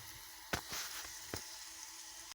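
Onions frying in a pan for potato palya, a faint continuous sizzle broken by a few sharp clinks and scrapes of stirring.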